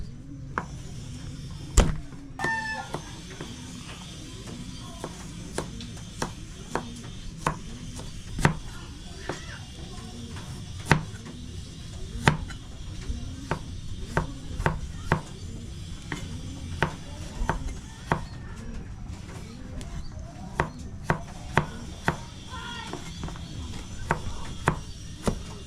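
Garlic chopped with a knife on a cutting board, a series of sharp irregular knocks repeating through the whole stretch, close and clear, with a voice talking quietly underneath at times.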